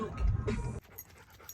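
A dog pants in quick, breathy huffs close by, loud at first and then fading to softer breathing, after a long stretch of dog-sitting that included swimming.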